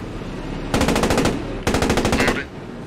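A coaxial tank machine gun in the Post Scriptum video game fires two loud, rapid bursts close by, each about a second of evenly spaced shots, separated by a short pause.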